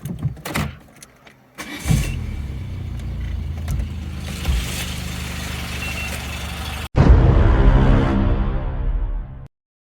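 A Peugeot 205 XR petrol engine, just back together after a valve cover refit, cranks with a few short attempts, then catches and runs steadily up close before a louder surge and abrupt cut to silence.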